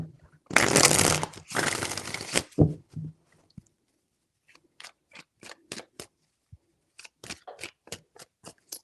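A deck of tarot cards is shuffled in two long riffling bursts, then a series of quick, crisp tapping and flicking sounds follows, close and clear in a quiet room.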